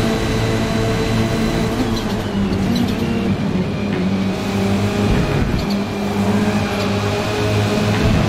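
Race car engine in a Forza league race, a loud, steady high-revving drone with shifting gear pitches as the car accelerates, close and continuous, with no voices.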